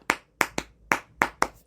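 Six sharp hand claps in an uneven rhythm, loud and close, with silence between them and no voices.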